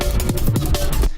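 Short burst of a Reese bass patch built in FM8, a thick detuned low synth tone with pulsing modulation, heard alone and fairly loud for about a second before fading out.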